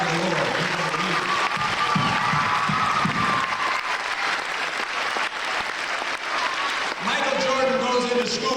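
A church audience at a 1993 junior high all-night event claps in a dense, sustained round of applause, loud and close, with a voice speaking over the clapping.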